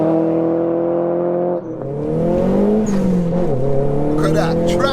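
A 340 bhp Nissan Pulsar GTI-R accelerates hard, its engine droning loud and steady from inside the cabin, pitch dipping at a gear change then climbing again, with tyre noise and people talking over it.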